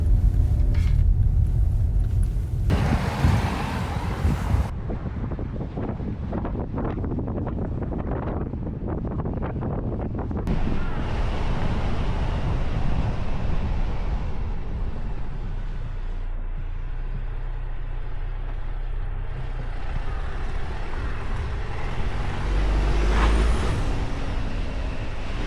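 A Renault Koleos gasoline 2WD with a dual-clutch transmission climbs a hill in Pyeongchang-dong, giving a steady, close low rumble of engine and road noise mixed with wind buffeting, continuous throughout with no talking.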